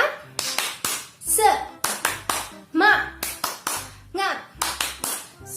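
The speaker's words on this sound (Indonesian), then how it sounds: "Tepuk semangat." Children in a class play the tepuk semangat clapping game led by their teacher, sharp claps falling in a repeating rhythmic pattern alongside chanted voices, close and clear.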